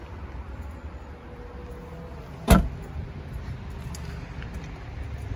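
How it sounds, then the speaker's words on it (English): Electric tailgate of a 2019 MINI Countryman John Cooper Works ALL4 closing, a single sharp thud near the middle over a steady background hum, with no talking. "the electric tailgate you can close just by pressing the button."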